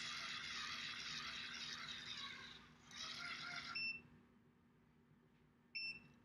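A Spin & Curl hair curler gives short, high electronic beeps near the end, after a stretch of loud hissing, rushing noise that stops abruptly.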